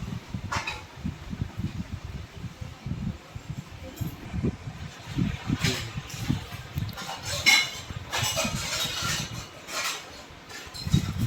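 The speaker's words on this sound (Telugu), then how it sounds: "పనసపండు ఇలా కోసాము" An oiled knife works through a jackfruit, making repeated soft, irregular cutting and scraping sounds with occasional light clinks, fairly close and without speech.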